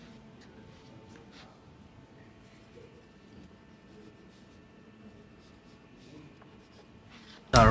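A pen scratches across paper in a quiet, continuous scribble of small strokes, close to the ear, ending in a sudden loud burst of noise.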